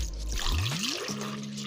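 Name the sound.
pouring warm milk into mixing bowl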